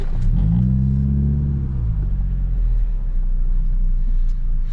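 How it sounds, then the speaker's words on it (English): Large safari buses rumble past at close range on a road in Dinokeng game reserve, a heavy low engine drone with a brief rising and falling tone as one passes, steady and loud throughout. "there's these huge buses coming past us"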